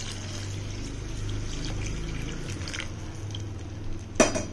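Water pours steadily into a pan of coriander rice and masala, a continuous splashing trickle that ends with a brief louder splash and clatter.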